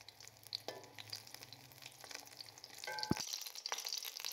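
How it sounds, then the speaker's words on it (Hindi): Chicken-stuffed eggplant fries in about a tablespoon of oil, a quiet, continuous sizzle with scattered crackles and a sharp utensil clink midway, heard up close. "एक टेबल स्पून मैंने इसके अंदर ऑयल डाला है जिसमें मैं इसको फ्राई कर रही हूँ।"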